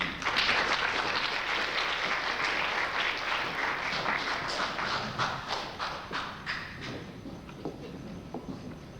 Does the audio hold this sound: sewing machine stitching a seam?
no